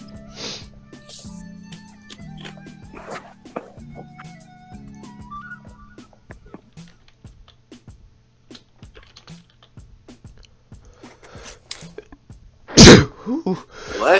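A single loud, sharp sneeze bursts out near the end, close and sudden, after a stretch of quiet game music and soft clicks.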